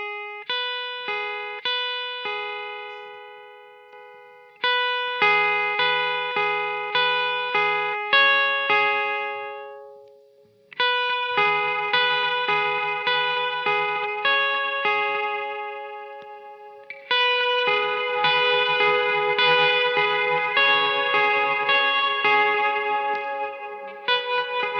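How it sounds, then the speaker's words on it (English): Clean electric guitar running straight into an amp with no pedals, playing plucked single notes and chords in a riff, loud and alone with ringing sustain and brief pauses between phrases. "So the guitar straight into the amp sounds like this."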